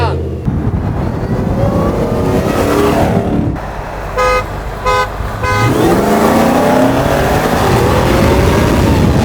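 A supercharged V8 Ford F-150 Raptor accelerates hard with a loud, close, rising roar that drops briefly mid-run, with bursts of a horn-like tone and excited voices talking over the engine.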